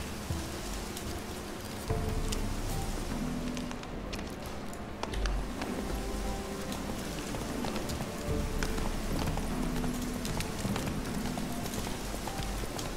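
Horse hooves clop along at a steady gait, loud and close, under a constant wash of falling rain, in the video game The Witcher 3.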